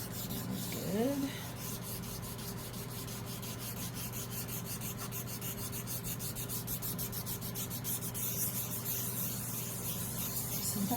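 Resin is wet-sanded by hand, giving a steady close-up rubbing and scrubbing that keeps going without a break, and the scratchy texture grows a little denser toward the end.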